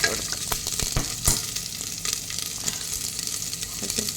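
Onions with ginger and green chilli sizzling in a pan, with a steady crackling fry and repeated scraping strokes as the mix is stirred, close and continuous, with no voices.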